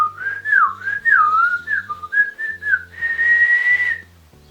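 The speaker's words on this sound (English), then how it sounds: "I can whistle on an in and then occasionally on the out" Someone whistles a wavering, tuneless line of sliding notes, then holds a steadier pitch with breathy air, close and clear, with no talk.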